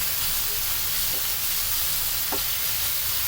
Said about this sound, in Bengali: আমরা চিংড়ি মাছগুলো ভালো করে উল্টে পাল্টে হালকা করে ভেজে নিচ্ছি।